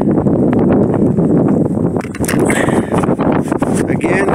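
Strong wind buffets the microphone in Death Valley, a constant roaring rush with gusty surges, while footsteps and movement crunch underneath.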